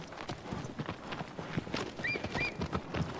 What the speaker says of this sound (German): Wir reiten also hier mal links durch die Schlucht und halten uns dann einfach rechts.